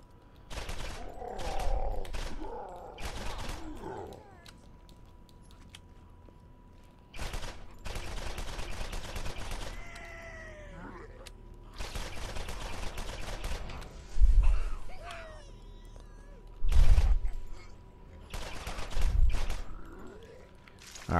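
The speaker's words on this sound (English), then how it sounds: "Didn't even realize I was using a machine pistol." Machine pistol gunfire in the Borderlands video game comes in several separate rapid bursts, loud and clipped, with quieter game effects between the volleys.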